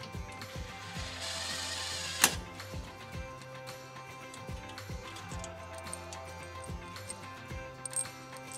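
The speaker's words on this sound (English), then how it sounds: "you have to use your impact to run the screws through" Screws driven through TrailMaster Mid XRX/R go-kart parts with an impact driver, a steady close mechanical chatter with rapid ticking hammer blows and one sharp metallic clank partway through.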